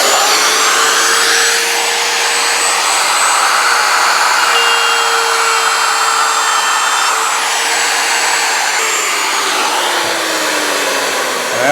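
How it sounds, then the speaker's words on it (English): A handheld router runs continuously as it cuts along a board edge, giving off a loud, steady high-pitched whine with a slight pitch shift near the end and no talking. "I'm going to go from left to right with the handheld router."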